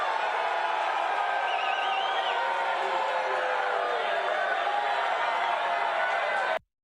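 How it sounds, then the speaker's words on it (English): Libertarian rally audience holding Free Ross signs roars, applauds and hollers after a Trump campaign promise, a dense sustained crowd wall with whoops, continuing loud until it cuts off abruptly. "many libertarians in the audience with Free Ross signs roaring into applause and shouting and hollering"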